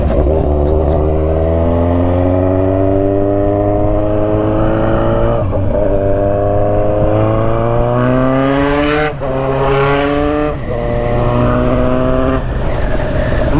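A Kawasaki Z900RS with a full exhaust system revs loudly up close. Its engine climbs through long rising pulls, drops briefly between gear changes, then swells again, with no voices.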